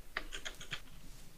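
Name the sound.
typing hard on a computer keyboard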